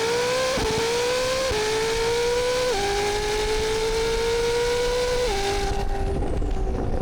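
A Koenigsegg CC850 launches hard in automatic mode, its engine droning loudly and steadily as it climbs through four quick upshifts, each marked by a brief dip in pitch. No one speaks.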